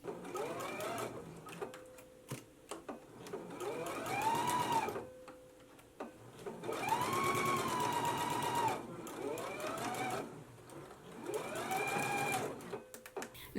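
A sewing machine stitches a jumpsuit seam at a 5/8-inch allowance in several bursts that rise and fall in speed, with pauses between them.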